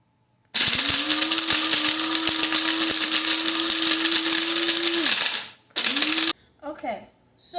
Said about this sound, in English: let's go ahead and put them in the grinder